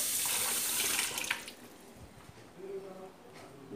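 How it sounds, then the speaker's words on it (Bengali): Tap water runs into a pot for boiling an egg, a loud hissing stream for about a second and a half, then it stops and leaves faint drips and quiet kitchen sounds. "দেখো এই মাপে জল দেব।"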